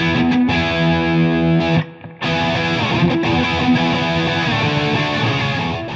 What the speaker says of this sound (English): just that big Tube Screamer into it, just a partially cranked Marshall, and it just opens up